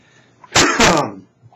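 A single sharp cough, loud and close, bursts out in two quick pulses.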